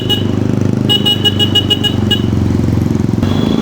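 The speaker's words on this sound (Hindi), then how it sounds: "हमारे पीछे बहुत सारी बाइक्स आ रही हैं।" A convoy of motorcycles on a road trip rumbles past with a loud continuous engine drone, while a horn honks in a rapid run of short toots before one final longer blast.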